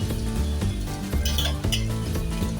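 Tomatoes and young jackfruit sizzle steadily in a pan while a utensil scrapes and clinks against the metal, close and continuous.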